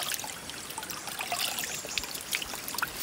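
Water trickles from a spring in a soft, continuous babble with small splashy bursts, close but quiet, and no voices.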